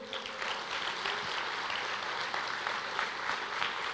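A church congregation applauds, dense even clapping that carries on steadily for a few seconds, slightly distant in a large room.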